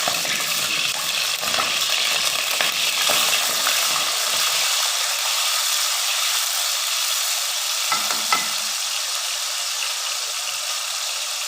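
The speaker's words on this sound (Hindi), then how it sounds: "ऑयल हमारा गरम हो गया, अब हम इसमें प्याज डालेंगे।" Onions drop into hot oil in a pan and sizzle steadily and loudly, with a few stirring scrapes and clinks mixed into the continuous frying hiss.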